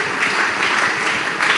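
A church congregation claps hands together in a dense, steady burst of applause, loud and close, with no voices standing out.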